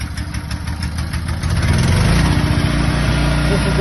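A small engine with a choke fires up and settles into a steady, loud idle close by, its running note rising and thickening about halfway through.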